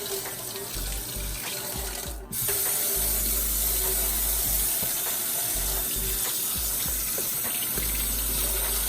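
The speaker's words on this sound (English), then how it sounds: "I'm gonna go ahead and run some water, some cool water." Cool tap water runs into a clean kitchen sink to rinse crab legs, a steady close-up stream with a brief dip partway through before it carries on evenly.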